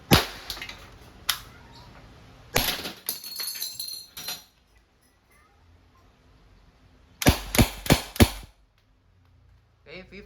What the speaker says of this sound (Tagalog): Okay, pang fifth round. Fifth round. Firing.